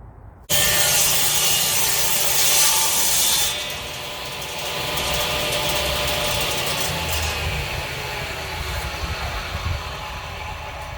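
A saw cuts through the end of a wooden board for a charcuterie board, a steady rasping stroke that runs continuously and loud for the whole stretch, close up with no talk.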